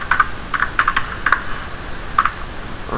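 Computer keyboard typing in a quiet room: short clusters of crisp key clicks in quick bursts, with a brief pause before a final couple of taps, close and clear over a faint background hiss.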